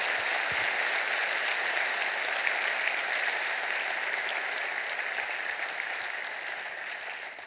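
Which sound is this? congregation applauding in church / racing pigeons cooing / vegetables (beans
congregation applauding in church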